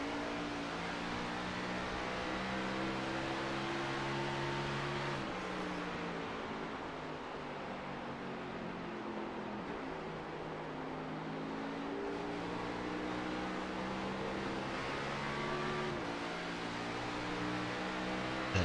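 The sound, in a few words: race car engine shifting gears in a racing simulator game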